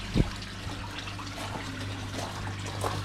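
Water trickles and splashes steadily through a Bakki shower filter on an outdoor koi pond tank, a soft continuous flow with a low hum and a brief louder splash near the start.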